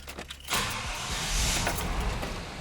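An OBS Chevy truck engine cranks and catches after a brief quiet moment, then settles into a steady, close rumbling idle with no talking.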